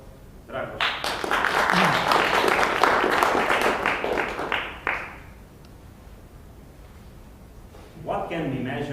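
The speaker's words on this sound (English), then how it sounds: "Your applause, Dragoș." Applause for a speaker at a Toastmasters public speaking meeting, a burst of many hands clapping that swells quickly, holds for about four seconds, then fades out before a voice begins talking.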